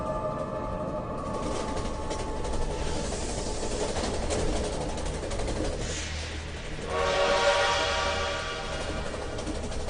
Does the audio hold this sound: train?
yes